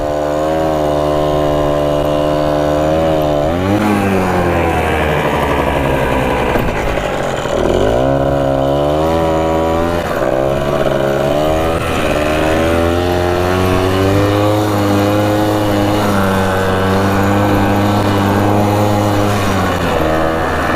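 Rokon 2x2 two-wheel-drive motorcycle ridden off-road, its loud, buzzy engine close and continuous, revving up and down through changing throttle for the whole stretch without any voices.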